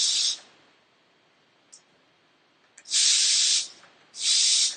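An Instant Pot pressure cooker vents steam in loud, sharp hissing bursts: one short burst at the start, then two long blasts near the end, separated by quiet.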